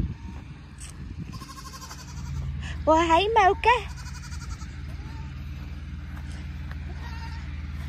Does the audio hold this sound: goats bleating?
yes